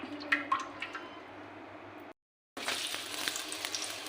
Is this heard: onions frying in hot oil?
yes